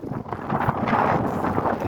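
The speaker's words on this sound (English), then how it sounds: "You see how windy it is today" Steady, blustery wind rushing and buffeting continuously throughout, a broad roaring noise with no voices, like gusts sweeping across open water.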